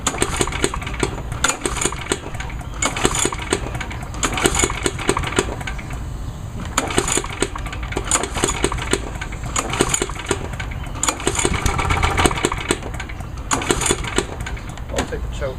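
Several small lawnmower engines run together, a loud, rough, pulsing drone with uneven surges and sputters, close by and continuous.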